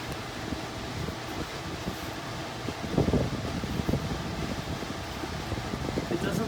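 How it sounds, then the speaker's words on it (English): A Key Largo ceiling fan runs on its high setting with a steady broadband whoosh of moving air, brief louder gusts and thumps around the middle, and faint talk in the background. "But this fan blows a shiz ton of air."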